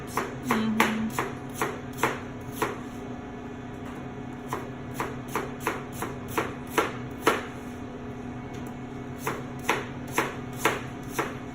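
Apples chopped with a knife on a cutting board for a caramel apple cheesecake pie, a steady series of close, crisp thuds at an uneven rhythm over a light background hum, with no talk.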